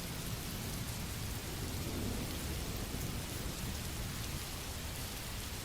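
Steady, dense rainfall hisses continuously at an even level throughout, with a low rumbling undertone beneath the wash of drops and no voices.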